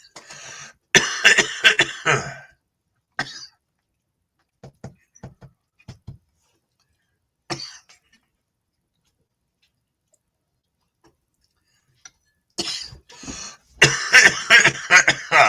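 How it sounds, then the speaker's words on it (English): Several sharp coughs from one person come in clustered bursts, loud and close, with short pauses and quiet gaps between them and a stronger run near the end. "might as well get that cough out of there for myself"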